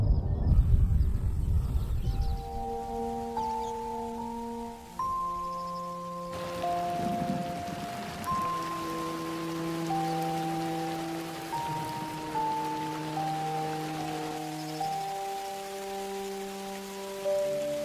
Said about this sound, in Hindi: आसमान से भी बारिश की बौछार शुरू होने वाली है।